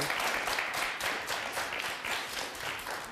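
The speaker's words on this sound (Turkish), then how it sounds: "alkış daha istiyorum" A studio audience at a Turkish TV word-game show applauds steadily for a few seconds, a dense, even wash of clapping at moderate distance with no voices on top.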